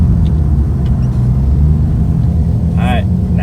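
Conquest car with a swapped 1JZ-GTE engine on the road, a steady low engine and road rumble running throughout, with a voice briefly over it near the end.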